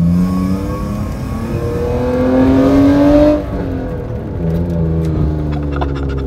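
A BMW E36 with a six-cylinder engine and a valvetronic exhaust, valve opened, revs loud and close. The engine climbs in pitch over a few seconds, drops off sharply, then settles into a rumbling idle and blips again.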